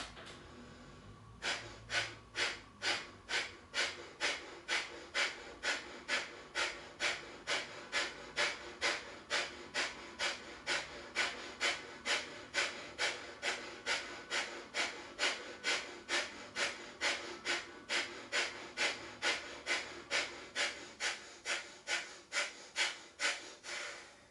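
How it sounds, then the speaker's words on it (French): Slow, steady breathing through the nose during a yoga exercise, close and alone, with a long even series of regular soft breath pulses. "Donc une première fois, j'inspire par le nez."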